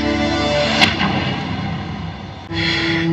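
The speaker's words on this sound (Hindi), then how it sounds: "और तोप की गूंज।" A cannon boom effect from the Red Fort light and sound show in Delhi, a single heavy thud that rings out and decays, followed by a second rumbling swell, with a steady background tone underneath.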